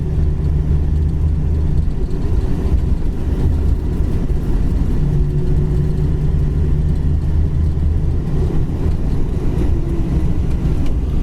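A 1979 Dodge Magnum's engine running, heard as a loud, steady low rumble that holds even throughout with no revving or pauses and no voices.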